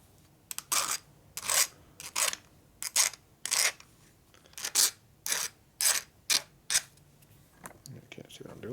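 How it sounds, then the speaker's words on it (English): A hand file deburrs a metal part during a 1965 Harley panhead FLH 74ci engine rebuild. Close, bright rasping strokes come in a steady rhythm of about a dozen separate passes with short pauses between them. "I'm going to take this and file it a little bit to deburr it"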